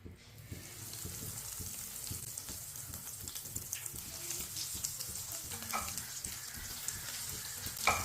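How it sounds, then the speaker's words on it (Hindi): Potato kebabs fry in hot oil over a medium flame, giving a continuous soft sizzle and bubbling with light scraping and clinks, fairly quiet and close. "अब इसमें एक एक कबाब डाल लेंगे।"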